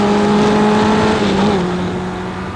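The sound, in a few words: Vauxhall junior formula racing car driving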